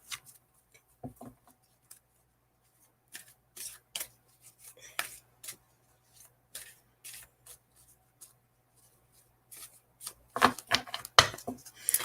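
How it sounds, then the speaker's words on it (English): Deck of playing cards being shuffled by hand, close and soft, with scattered riffles and flicks building to a busier burst of shuffling at the end. "Let's shuffle the cards really well."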